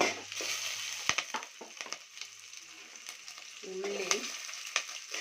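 Ginger and garlic fry in a pan with a close, crackling sizzle, broken by a few sharp clicks and taps of a spoon against the pan.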